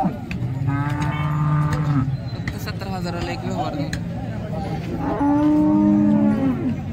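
Cows low loudly and repeatedly at the busy Modnimb livestock market, long deep moos rising over constant crowd chatter while someone talks nearby.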